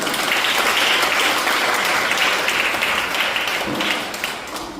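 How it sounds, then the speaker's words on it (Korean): A church congregation at Sunday worship applauds to welcome visitors, a full, sustained round of clapping from many people that tapers off near the end. "우리 박수로 환영하겠습니다."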